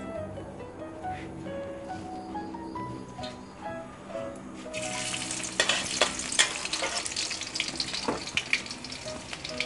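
Chili paste with long beans sizzles as it is stir-fried in a hot pan, quiet at first then louder with sharp crackles and stirring scrapes, close by.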